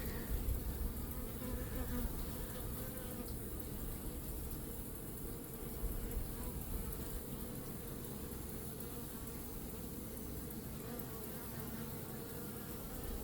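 Honeybees buzz as a steady, dense drone throughout a beehive inspection during record summer heat, with the swarm sound continuous and fairly close and no talking.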